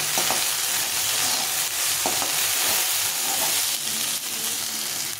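Potato and vegetable pieces, salted and fried in a pan for upma, sizzle loudly and steadily up close, with occasional soft scrapes of stirring.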